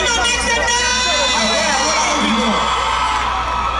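At a live road show, a crowd whoops, cheers and shouts loudly with steady babble, a dense sustained roar of many voices close by.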